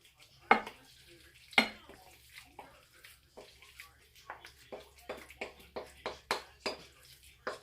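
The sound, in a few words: cheesy vegetable casserole mixture dumped into dish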